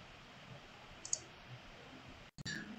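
A computer mouse clicks a few times on a map file while it loads, giving small sharp clicks against faint room noise, followed by a brief louder burst at the end.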